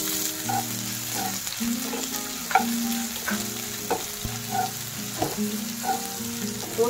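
Onion fries in a pan for a cluster bean vegetable dish, a steady close sizzle punctuated by rhythmic stirring scrapes and soft clinks of the spatula, with no voices.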